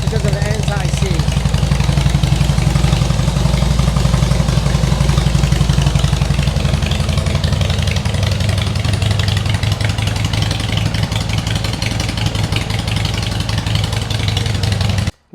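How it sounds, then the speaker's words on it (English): A 2016 Harley-Davidson Softail Slim with Vance and Hines Short Shots staggered exhaust idles loud and close, a steady deep rumble holding throughout before cutting off at the very end. "Short shot staggered installed on the 2016 Softail Slim. The sucker's loud, guys."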